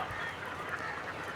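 Several ducks and geese honk and quack together in a steady, noisy flock chorus in a backyard aviary, fairly close and continuous throughout.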